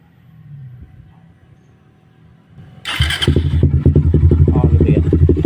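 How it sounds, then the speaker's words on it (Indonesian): A Suzuki Satria Fi150 motorcycle with a 30 cm exhaust starts after a quiet, faint stretch, then idles loudly up close with a rapid, throbbing exhaust pulse and mechanical engine clatter. "buat dengerin suara mesin motor sama knalpotnya Raffi"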